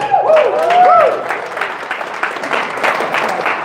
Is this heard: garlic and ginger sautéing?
no